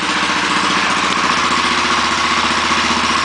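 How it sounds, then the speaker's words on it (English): A small gas engine fitted to a mountain bike converted into a moped, idling with a loud, steady, close putter and a fast regular pulse, much like a motorcycle, with no talk. "it sounds like a regular motorcycle, right?"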